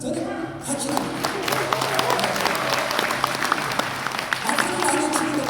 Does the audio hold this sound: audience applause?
yes